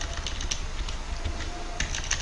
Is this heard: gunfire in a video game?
no